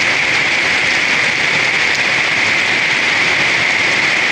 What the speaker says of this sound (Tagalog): Puro ulan lang po talaga.